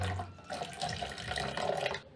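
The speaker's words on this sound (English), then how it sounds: "Then you see if I try to fill water inside there" Water pours steadily into the water tank of a chicken feeder, a continuous soft splashing and trickling that runs at low level throughout, with no voices.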